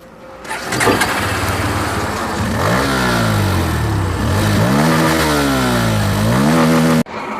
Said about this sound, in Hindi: तो मैं अभी स्टार्ट करके सुनाता हूँ आपको।